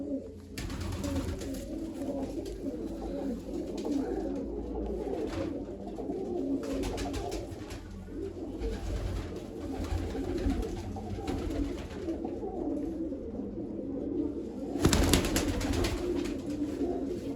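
Pigeons coo steadily in low, throaty rumbles, several birds overlapping close by, with occasional rustling and a brief louder flutter near the end.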